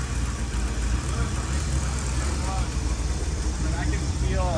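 A 1984 Corvette C4 engine runs with a steady low rumble just after a carburetor swap, continuous and fairly close, with voices talking over it.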